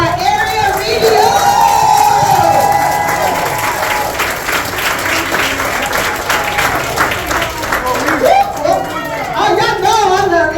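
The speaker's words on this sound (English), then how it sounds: "can y'all give a hand clap to our area VDO?" Audience applause and cheering fill a regional business event hall in Miami, with steady dense clapping, scattered whoops and children's voices mixed in, and talking heard throughout.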